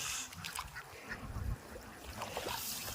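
A flock of ducks in a Kerala village calls nearby, with overlapping quacks and honking cries in a busy, continuous chatter outdoors.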